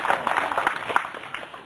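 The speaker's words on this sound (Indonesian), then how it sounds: "Tepuk tangan buat Bu Rohayu" Short burst of audience applause for a woman named Rohayu at a Buddhist dharma talk, dense and fairly close, tapering slightly toward the end.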